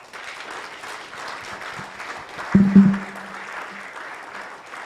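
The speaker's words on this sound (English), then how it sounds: "As you can see, Faith, that warm round of applause is really congratulations to you for where you are now." An audience at a bank's sustainability report launch gives moderate, steady applause, with a brief louder burst midway and a low tone briefly sounding underneath.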